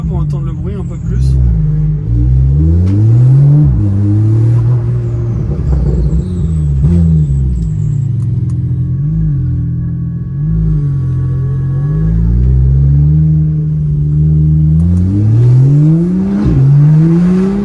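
A supercar engine revs and accelerates repeatedly, rising and falling in pitch with a deep roar from inside the cabin with windows slightly open, while someone talks loudly over it.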